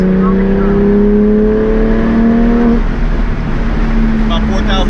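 A Porsche 911 GT3 fitted with a race exhaust drives along, its engine tone climbing steadily then dropping off after a gear change, heard from inside the car while someone talks throughout.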